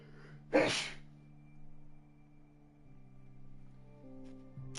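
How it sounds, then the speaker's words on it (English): One sharp sneeze, turned away from the microphone, bursts out near the start and fades quickly into a quiet, steady tonal hum that continues alone. "I had to sneeze"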